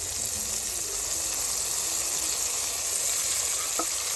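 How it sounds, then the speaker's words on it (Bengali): Onion and tomato frying hard with spices in oil for a village-style raw hilsa curry, a loud, dense sizzle and crackle up close, constant throughout with stirring and no speech. "এই পেঁয়াজ আর টমেটোকে ভালো করে ভেজে নেব"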